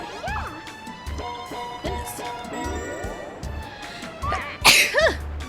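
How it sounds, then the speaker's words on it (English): A person sneezes once, a sharp burst near the end, over bright, busy Mario Party 7 music and jingling game effects. "I have to sneeze."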